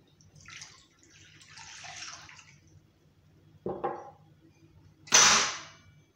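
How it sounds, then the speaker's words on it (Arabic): A glass of water is poured while making dough for stuffed baguettes: faint trickling hiss at first, then two short, louder splashing pours close by. "غندير واحد الكاس ديال الماء"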